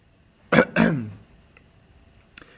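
A single sharp cough followed quickly by a second, rougher cough or throat clear, close and fairly loud in a quiet room, with a faint click near the end.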